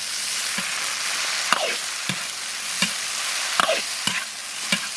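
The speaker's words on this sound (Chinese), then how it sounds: "猪肝、土豆条炒一炒" Pig liver, potato strips and vermicelli stir-fry in a wok with garlic, ginger, scallion and dried chilies, a steady close sizzle broken by several sharp scraping clanks of the spatula against the metal.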